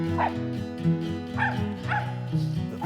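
A hunting dog barks and yips in short bursts during a squirrel hunt with a falcon, about four loud, close barks with whiny tones between them.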